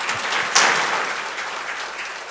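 Congregation applauding during a church service, a broad steady wash of clapping that swells sharply after a moment, then slowly fades while staying dense and sustained.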